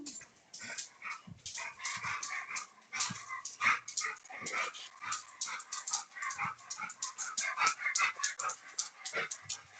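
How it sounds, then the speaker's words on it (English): A dog chasing its tail in circles, giving a busy stream of short yips, whimpers and small growly barks in irregular bursts, fairly close and moderately quiet. "Is your dog running around in circles chasing its tail?"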